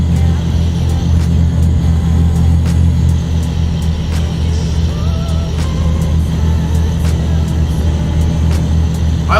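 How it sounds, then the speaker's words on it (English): Simulated heavy truck engine with an open pipe exhaust and an 18-speed transmission in American Truck Simulator, a loud, continuous low droning rumble with a steady throb and faint intermittent ticks, without any talking. "I just want to enjoy the sound of an open pipe, which is what I've got in this thing right now"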